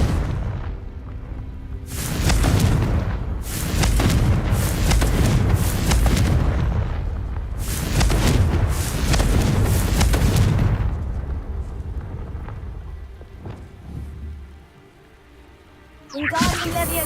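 Explosive Confringo spell blasts in the video game Hogwarts Legacy: two long stretches of heavy, rumbling booms, fading into a quieter lull before a final sharp burst, with a voice audible at points.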